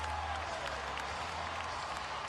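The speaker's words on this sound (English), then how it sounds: "This crowd delirious." A basketball arena crowd roars and applauds near the end of a game, a dense, steady wash of cheering and clapping with no break.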